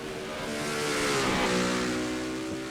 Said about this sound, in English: Here comes the New York Special driven by Marty Sakala, and he puts it in the wall getting out of pit road